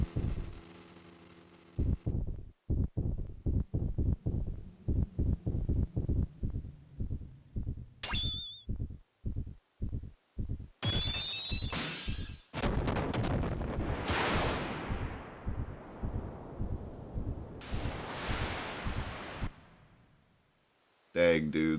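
A slow-motion explosion in the video game Xenogears unfolds as a long series of deep, evenly spaced booming thuds, followed by sharp bursts and a swelling rumbling blast that fades near the end.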